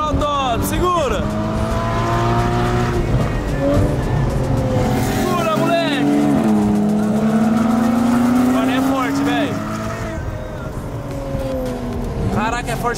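A Porsche accelerating hard on a racetrack, its engine loud and close with rising and falling revs through gear changes and a long high pull, while someone talks excitedly over it.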